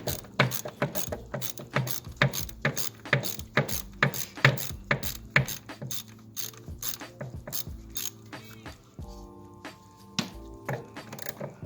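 Socket ratchet wrench loosening the valve cover bolts on a BMW E46 engine with a long 10 mm socket, rapid close clicking bursts repeating steadily, then slower, more spaced clicks toward the end.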